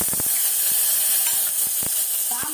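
Curry leaves crackle and sizzle in hot oil for sambar, a steady bright hiss broken by sharp pops and spits, close and fairly quiet with no talk.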